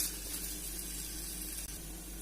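Ginger sautéing in a pan for vadukapuli pickle gives a soft, continuous sizzle, faint and steady with no voices.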